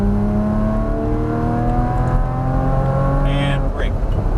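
A Porsche Cayman accelerates at full throttle on a race track, its engine note climbing steadily through the revs, loud and close, while a voice talks over it.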